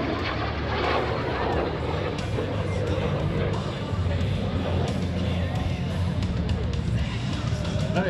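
An L-39 Albatross jet at an air show sustains a steady, loud, broadband roar throughout, with constant rumbling engine noise and wind across the mic.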